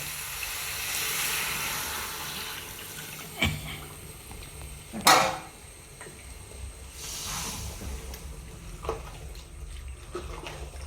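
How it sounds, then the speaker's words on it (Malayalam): Hot water poured into chicken curry masala frying in a pan sets off a quiet, continuous sizzling hiss, with a couple of sharper steam bursts rising briefly above it. "ഇതാണ് ചൂടുവെള്ളം ഒഴിച്ചു"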